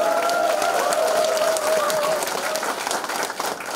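Supporters at a campaign office opening ceremony in Jindo, South Korea, give sustained, fairly loud applause while a voice speaks briefly over the clapping at the start.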